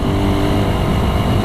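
Suzuki Raider 150 motorcycle engine while riding, a close, loud, steady drone of the running engine at speed, continuous without a break.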